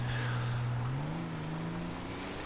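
A heavy off-road SUV engine in modded GTA 5 labours up a steep hill, giving a low, strained drone that rises slightly in pitch and holds steady, fairly quiet with no talk.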